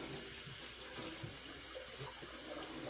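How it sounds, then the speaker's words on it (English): Water running steadily through a Berkey filter element as it is flushed from the inside out, a continuous close rushing and splashing like a tap into a sink, with no talking. "So what you're doing is you're flushing it from the inside out."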